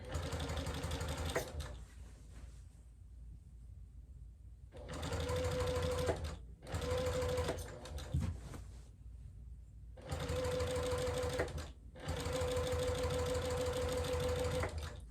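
A sewing machine stitches straight quilting lines through a quilt with thick batting, running in several loud bursts of steady, rapid needle chatter separated by short pauses, close by with no talk.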